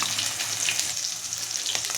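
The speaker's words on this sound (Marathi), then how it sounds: "आता हे वाटण आपल्याला कमी गॅसवरती छान परतून घ्यायचं आहे." Onion, coconut, ginger and garlic paste sizzles steadily in a pan over low heat, a continuous close crackle and hiss with faint stirring scrapes throughout.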